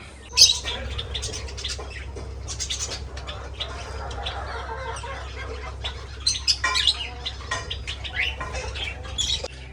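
Sparrows and parrots chirp and squawk around a bird breeding setup, with scattered bright calls and occasional wing flutters over a low steady background hum, moderately close and without talk.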